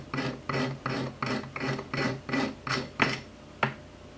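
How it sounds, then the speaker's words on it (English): Sandpaper is rubbed by hand along a fishing rod during a conventional reel-style build, eight or nine even rasping strokes in a steady back-and-forth rhythm, close and clear with no talking. "Sand it down."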